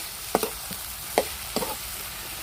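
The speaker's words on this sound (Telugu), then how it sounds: "మొత్తం ఇలా ఆయిల్లో ఫ్రై అంతవరకు అయితే కలిపి చేసుకుంటూ లైట్గా ఫ్రై చేసేసుకోవాలి" Ridge gourd pieces fry lightly in oil, a low steady sizzle broken by several sharp scraping stirs of a spoon in the pan, close and fairly quiet.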